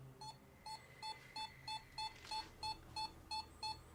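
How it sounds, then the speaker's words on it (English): A paranormal investigator's handheld meter beeps rapidly in one spot, a steady train of about ten sharp electronic chirps at even half-second intervals, close and clear over a low background hum. "the meter beeps frantically in one certain spot"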